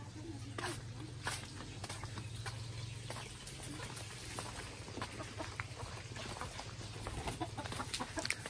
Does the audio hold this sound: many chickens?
yes